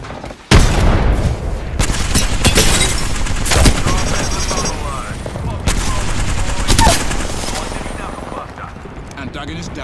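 Gunfire and a grenade explosion in the video game Apex Legends: loud rapid bursts of shots and heavy booms, near and dense, with a voice speaking amid the firing.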